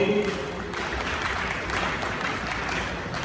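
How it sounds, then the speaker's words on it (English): An audience at a cooperative dinner in Kpone claps together, a steady burst of applause that starts under a speaking voice and carries on at an even, moderate level. "Let's clap for him."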